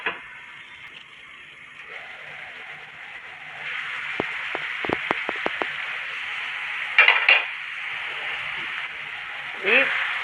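A lid goes onto a cooking pot while chicken masala fry is prepared, giving a couple of metallic clanks after a run of light clicks, with someone talking throughout.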